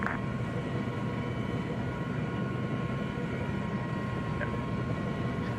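An ARMA 3 helicopter taxiing, a steady droning engine and rotor hum that stays constant and fairly close, with faint radio voices now and then.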